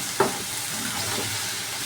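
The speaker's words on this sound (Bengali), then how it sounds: "একটু ভাজা ভাজা করে নিব।" Onions with salt frying in a pan while being stirred, a steady soft sizzle throughout with a brief louder clatter near the start, no voices.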